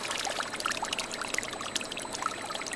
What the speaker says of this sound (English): Clear liquid drips steadily from the column's spout into a collection funnel.